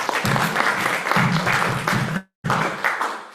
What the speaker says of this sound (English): give a round of applause to Dr. Alice